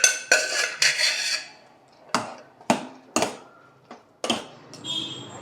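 Cooked mung dal being stirred into jackfruit in a metal pot for payasa, heard as a string of sharp spoon-on-pot clinks and scrapes at an uneven pace, close and distinct with quiet gaps between them.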